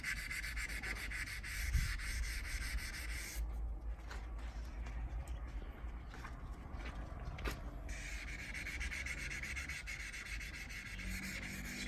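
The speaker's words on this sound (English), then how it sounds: "having a sanding block actually ensures that you actually sand evenly" Continuous rhythmic rubbing of a sanding block across oxidised car paint, steady back-and-forth strokes at close range with no talking.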